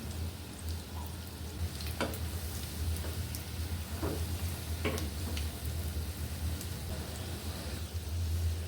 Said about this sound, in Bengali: ভালো করে এটা ভেজে নেবেন